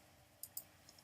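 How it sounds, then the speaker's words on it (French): A computer mouse gives two quick, crisp clicks close together, followed by two fainter ticks, all very quiet over a near-silent background. "On clique."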